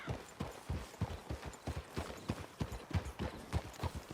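Horses walking in Red Dead Redemption II, a steady rhythmic clip-clop of hooves on soft ground, several animals close together, fairly quiet and without talk.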